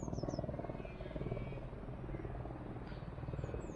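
A small XK A160 J3 Skylark (G-NCUB) radio-controlled model plane's electric motor buzzes and drones steadily as the throttle is opened, loud and continuous throughout with a fluctuating whine.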